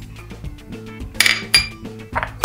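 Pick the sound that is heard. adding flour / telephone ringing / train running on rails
adding flour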